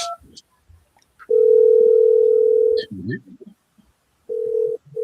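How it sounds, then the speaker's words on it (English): A phone call rings through an online real estate training meeting as a long, steady ringback tone. It pauses briefly amid a few small noises, then a second tone begins. "I think somebody calling you right now, Josh."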